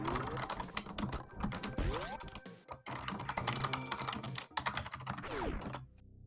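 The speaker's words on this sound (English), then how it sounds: "Enjoy the keyboard ASMR." Rapid typing on a computer keyboard during a match, a dense, continuous clatter of close keystrokes running unbroken for several seconds with no voices.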